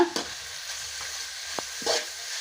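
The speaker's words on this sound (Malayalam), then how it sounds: "നമ്മൾ പച്ചമുളകും കറിവേപ്പില ഇട്ടിട്ട് ഇളക്കാൻ പോവാണ്" Green chillies and curry leaves stirred in hot oil in a frying pan while beef and kappa are being made, giving a soft steady sizzle broken by a few light scrapes of the spoon, close and quiet.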